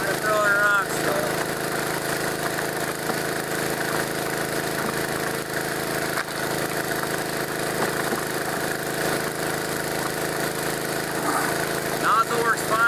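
A small gold dredge engine runs at a steady, droning idle with a constant buzzing hum in the field by the water, and someone speaks intermittently over it.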